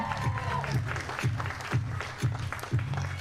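A fashion event audience claps sparsely to fill awkward dead time, a thin spattering of applause with a few louder individual claps over low rumbling room noise and faint voices.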